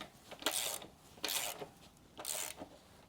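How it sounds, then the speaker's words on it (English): A wrench tightens the axle on a Talaria MX5 electric dirt bike, making three close, loud ratcheting bursts, each about half a second long, separated by short pauses. "Let's tighten our axle and see how it lines up."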